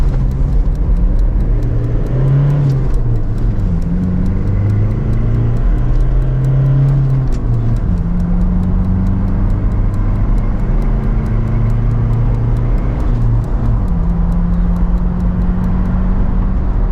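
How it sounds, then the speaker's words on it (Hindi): A 2017 Toyota Fortuner with a turbocharged 2.8L diesel engine, 4x4 drive and manual gearbox accelerates hard. Its loud, close engine note climbs in pitch, then drops at each gear change, rising again in repeated pulls with no talk. "गाड़ी का जैसे आप एक्सेलरेटर दबाएंगे गाड़ी कूदने लग जाती है, इतना पावरफुल इंजन है।"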